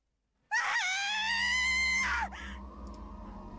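A woman in the visual novel game Raging Loop lets out a single loud, sustained high-pitched scream lasting nearly two seconds, breaking off sharply into quieter background noise.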